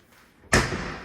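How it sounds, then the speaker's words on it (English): A pull-out kitchen cabinet drawer closes with a single sharp, loud slam and thud after a quiet moment, then a short resonant decay. "inside the cabinets, they have pull-out drawers"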